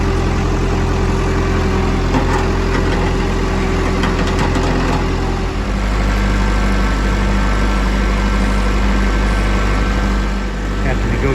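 A tractor engine running steadily at a low idle-like rumble, loud and close with constant vibration, shifting slightly in tone midway.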